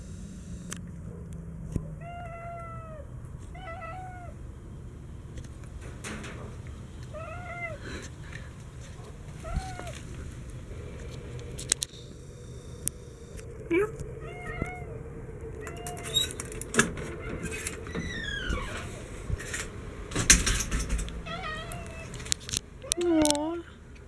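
A cat meows repeatedly in short, separate calls against a quiet room background, with occasional clicks and soft bumps between meows.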